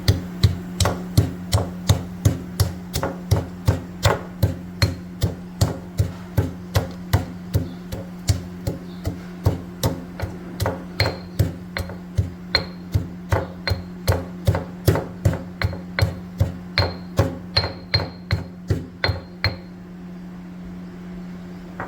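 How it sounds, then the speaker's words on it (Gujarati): Rapid, steady pounding of cashews and almonds being crushed, about fifty sharp, evenly spaced strikes with a clinking ring, close and loud, stopping near the end. "त्यां सुधी आपणे आ काजू बदाम ने क्रश करी लेशुं"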